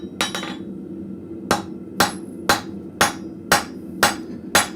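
A hammer strikes hot metal while forging an arrowhead socket in a blacksmith shop, ringing out in seven sharp, close blows, the first two in a quick pair, then a steady rhythm about every half second, over a low hum.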